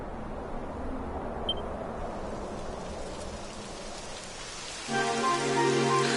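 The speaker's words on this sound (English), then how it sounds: "It would have to go and start raining, wouldn't it?" Steady, soft rain hiss fills the scene in Dragon Quest XI, then a tonal musical layer rises over it near the end.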